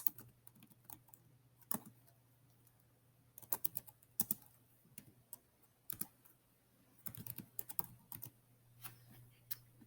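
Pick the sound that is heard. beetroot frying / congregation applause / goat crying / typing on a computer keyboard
typing on a computer keyboard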